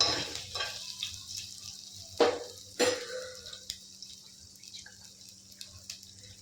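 Green chillies and ginger frying in a pan make a faint sizzle punctuated by a few louder scrapes and knocks, close by, with a low hum beneath and no speech.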